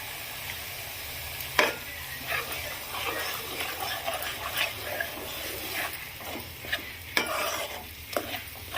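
Ginger garlic and onion paste fries in a pan for fish curry, a steady sizzle broken by repeated scrapes and clacks of stirring, close and moderately loud.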